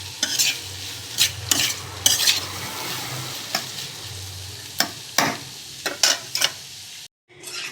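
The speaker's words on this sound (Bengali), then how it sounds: "তেলটাকে দিয়ে আরও কিছুক্ষণ ঢাকা দিয়ে ভাজবো।" Snake gourd frying in mustard oil, a steady close sizzle broken by repeated scraping stirs of a spatula against the pan, with a brief pause near the end.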